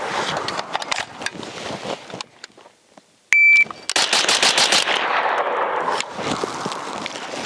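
A Springfield Armory Hellion bullpup rifle fires at an outdoor range, with loud sharp cracks and the clatter of the action, then an electronic timer beep, then a fast string of close, evenly spaced shots.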